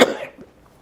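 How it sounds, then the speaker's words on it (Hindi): A single sharp cough bursts out up close, followed by a brief rasping tail and a softer throaty catch before quiet. "माफ कीजिए मुझे खांसी बहुत हुई है।"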